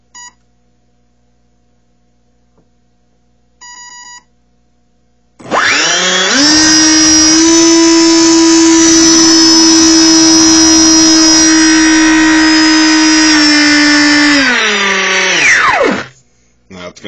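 A brushless motor driven by an Arduino through an ESC gives a few short electronic beeps, then spins up into a loud, steady high-pitched whine that holds for about ten seconds before winding down and stopping.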